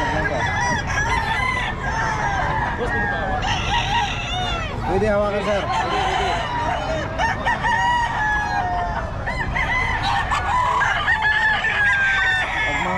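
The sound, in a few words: rooster crowing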